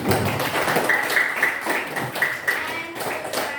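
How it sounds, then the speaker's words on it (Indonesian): Students in a high school classroom applauding after a group presentation: steady, moderately loud clapping from a small crowd, mixed with some murmuring voices and a faint tone in the background. "Kita berikan tepuk tangan lagi."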